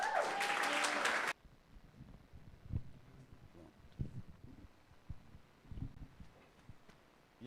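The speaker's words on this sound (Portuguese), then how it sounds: "Dá um aplauso pelo pastor Ellison." A church congregation applauds for Pastor Ellison in a loud, dense burst lasting just over a second, which cuts off abruptly into a quiet room with faint low thumps.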